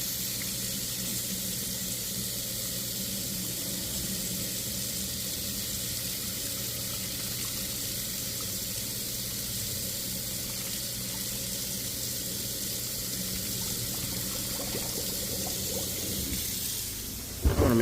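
Water runs steadily from a hot tap into a sink, a continuous close rushing stream with no talk, ending in a brief louder clatter at the very end.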